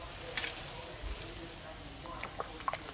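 Orzo and onions with spices, garlic and pepper flakes sizzle and fry in pans, a steady hissing crackle with occasional stirring taps, while people talk faintly nearby.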